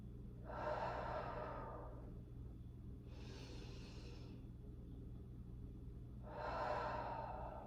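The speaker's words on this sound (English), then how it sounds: "Breathing deeply." Slow deep breaths during a shoulder and chest stretch against a wall, three long airy exhales at a relaxed even pace, close to the mic over a low steady hum.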